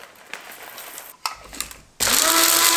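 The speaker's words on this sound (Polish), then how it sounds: "Po prostu zmieli mi kawę prawie na wiór." A cheap electric coffee grinder buzzes into a loud, steady whine as it grinds coffee beans, following a few sharp clicks and rattles close by.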